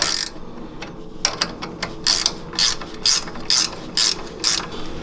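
A ratchet with a 14 socket tightens a nut on a Yerf Dog Spiderbox lift kit, its clicking pawl sounding in a series of close, evenly spaced ratcheting strokes.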